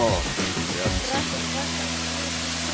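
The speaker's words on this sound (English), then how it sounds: "It's steam, hot spring waterfall." Steam rising from a hot spring waterfall in Guatemala gives a steady broadband rush of falling water, close and continuous, with a few brief voice-like bits in the first second and a low hum underneath.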